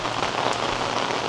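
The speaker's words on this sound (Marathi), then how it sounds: "पाऊस पण जाम लागतोय" Heavy monsoon rain pouring down over a Konkan village in India: a close, dense, even hiss of rain striking surfaces, heard briefly on its own.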